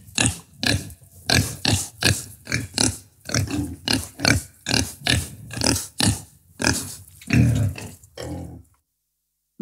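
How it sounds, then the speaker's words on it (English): Pig grunting in a rapid run of short, loud, close grunts and snorts, evenly spaced and alone, ending with a few rougher, longer grunts before silence. "Pig."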